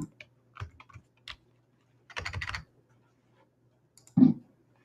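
Sparse clicks on a computer keyboard, a few isolated taps, then a short burst of quick typing and a final louder keystroke, close and quiet.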